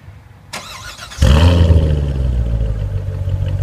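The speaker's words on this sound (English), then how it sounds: "That performance exhaust, what a great sound." A 2014 Chevrolet Corvette Stingray convertible with performance exhaust starts up: a starter whirr, then a loud deep engine catch and rev settling into a heavy rumbling idle, close and alone.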